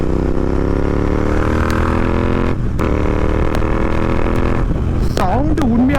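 A Royal Enfield Interceptor 650 fitted with a Red Rooster performance exhaust drones loud and close at steady speed, then snaps through several sharp rising revs near the end while a voice talks over it.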